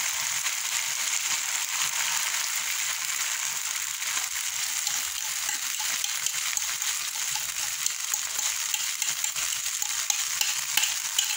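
Egg frying and being stirred in a pan for a quick Filipino viand: steady, close sizzle with irregular scraping stir strokes throughout, no talking.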